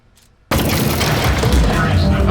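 Turret gunfire in the video game Aperture Desk Job: a sudden loud burst that stays dense and sustained, a harsh roaring barrage after a quiet start.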